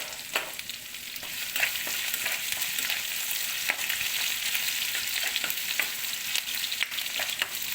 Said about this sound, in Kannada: ಆ ಬೆಳ್ಳುಳ್ಳಿದು ತುಪ್ಪದ ಜೊತೆ ಫ್ರೈ ಆಗುತ್ತಲ್ಲ, ಒಳ್ಳೆ ಅರೋಮ ಬರ್ತಾಯಿದೆ.